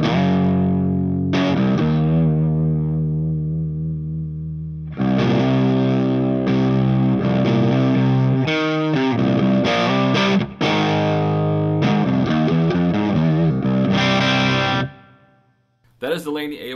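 Crunchy, dark but biting distorted electric guitar from a Carvin California Carved Top plays loud chords and riffs on an amp's high channel with brief pauses, trailing delay repeats, then cuts off near the end.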